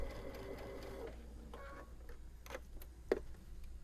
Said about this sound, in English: So we're just going to stitch along.